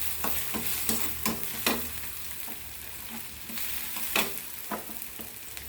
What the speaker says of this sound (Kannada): ಈಗ ಟೊಮೆಟೊ 1 ನಿಮಿಷ ಫ್ರೈ ಆಗಿದೆ.